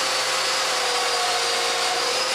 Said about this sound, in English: I mark the spots and Alain drills for the mortises.